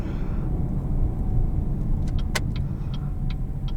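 A 2019 Buick Regal Sportback with a turbocharged four-cylinder engine drives along, steady engine and road rumble heard from inside the cabin, with a few faint clicks and ticks over it and no talking.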